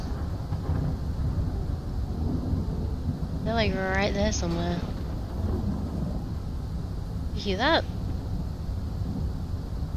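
Thunderstorm in The Isle Evrima dinosaur game, a constant rumbling roar of wind and rain under people talking, with a few higher dinosaur-like calls rising over it.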